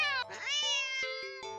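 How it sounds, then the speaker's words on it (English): A cat lets out a sharp, drawn-out meow, close and clear, with a wavering tone that breaks into a couple of shorter yowls. "the cat meows sharply at you and dashes off around the corner into the hall"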